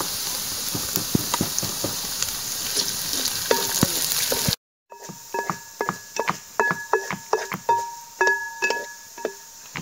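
Curry leaves are stirred into a mango pickle mixture in a pan, where a spoon scrapes in a steady rhythm over crackling frying. After a brief cut, the strokes come back more distinct and regular.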